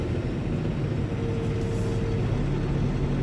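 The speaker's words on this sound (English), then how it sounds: "nothing but trucks and like a pretty nice little truck stop" Trucks idling at a truck stop, a continuous low diesel rumble with a brief airy hiss partway through, steady and moderately close.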